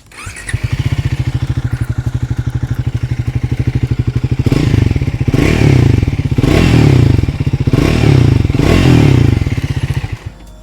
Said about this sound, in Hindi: अब मैं आपको सुनाता हूँ इस बाइक का एग्जॉस्ट नोट।